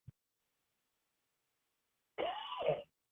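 A single short cough from a radio host, close and isolated, preceded by a tiny click and otherwise surrounded by silence.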